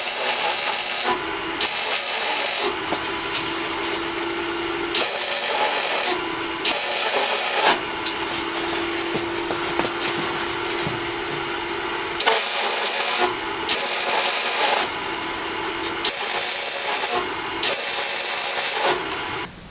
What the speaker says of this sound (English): I'm going to go ahead and get this tacked up